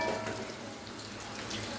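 Chicken pakoras fry in plenty of hot oil, giving a steady, moderate bubbling sizzle. It stays even and close throughout, with no one speaking.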